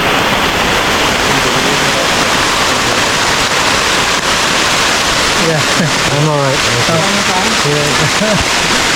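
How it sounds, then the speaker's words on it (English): Heavy rain pouring down in the Amazon jungle, a loud, dense, unbroken hiss throughout, with someone speaking briefly over it near the end. "it started to absolutely pour it down"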